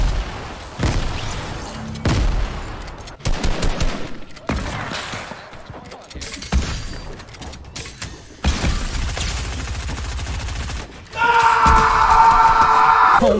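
Gunfire in the Fortnite video game, rapid bursts of shots scattered across the clip amid mechanical clicks and reloading clatter, loud and close, ending in a sustained bright tonal game sound.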